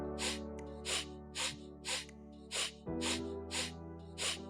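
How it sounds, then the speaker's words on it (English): Sharp, forceful nasal exhales of Kapalbhati breathing, eight quick bursts at a steady rhythm about every half second, close and clear against a faint steady hum, with no talking. "take a half inhale and start exhaling sharply through your nose"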